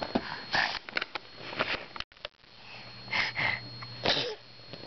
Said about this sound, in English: And you sneezing?